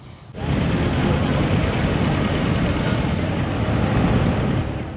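An antique tractor engine, the owner's first tractor, running at a California antique tractor fair before a parade, starting abruptly and then holding a loud, steady, low rumble with no one talking.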